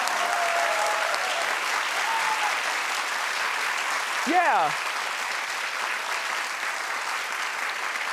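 Studio audience applause at a daytime talk show, a dense steady wash of clapping that runs the whole time, with one voice calling out briefly near the middle.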